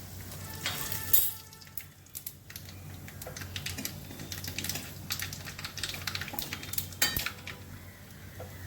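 Black cumin seeds crackle in hot oil in a pan, a steady close sizzle with scattered sharp pops and light utensil clinks, no voices.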